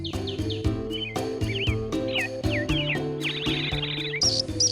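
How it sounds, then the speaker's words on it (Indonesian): Birds chirp and tweet repeatedly at a market bird stall selling doves, bright calls scattered over steady background music with strong rhythmic beats. "di pasar, di area penjual burung, Yusuf membeli sepasang merpati"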